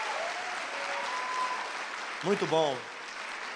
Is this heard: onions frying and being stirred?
no